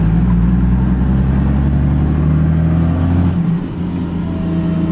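A GMC Silverado with a turbo diesel engine idling up close, a loud steady low rumble with a droning hum that dips slightly near the end, no voices.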